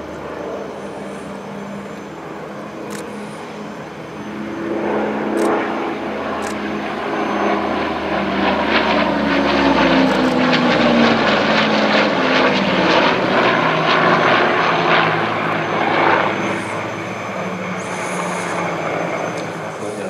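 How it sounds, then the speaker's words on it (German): A Douglas DC-6 with radial engines flies past at an air show, a loud propeller drone that builds from a distant rumble, peaks overhead with a shifting pitch and slowly fades, with no talking. "Und die hören wir uns jetzt beim nächsten Überflug nochmal an."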